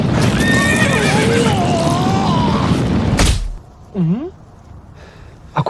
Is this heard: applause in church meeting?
no